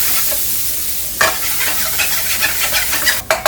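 Chopped onions fry in hot oil for a tadka, a loud, close sizzle broken by sharp scraping stir strokes of a spoon against the pan at irregular intervals, with no talking.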